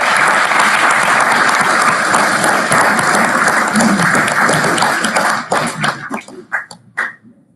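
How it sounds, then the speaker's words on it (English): Audience at a 2019 industry awards event applauds the recipients, loud dense clapping that holds steady for about five seconds, then thins into a few scattered individual claps and dies away. "Let's give them a round of applause."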